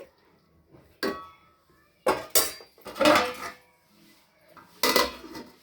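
A metal curry pot of chicken gongura clanks and scrapes on a gas stove in a home kitchen: several sharp clatters come at irregular intervals, close and fairly loud, with quiet gaps between them and no talking.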